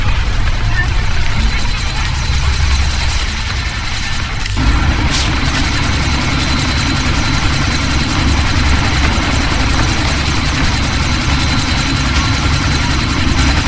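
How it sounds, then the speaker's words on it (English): A helicopter in the video game Deus Ex thunders with a loud, continuous engine and rotor roar as it prepares for takeoff, the heavy drone rising after a few seconds. Voices talk briefly over it. "That chopper's about to take off!"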